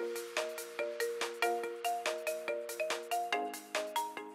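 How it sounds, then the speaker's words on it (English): A cheerful electronic phone ringtone from a video game plays as a rapid, steady series of bright melodic beeps, loud and clear with no talking over it. "Okay, I need to call Trunks on my phone."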